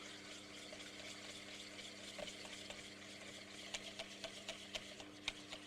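Faint, steady stirring as lemon juice is whisked into egg yolks for macarons, set over a low constant hum, with light clicks of the utensil against the bowl growing more frequent toward the end.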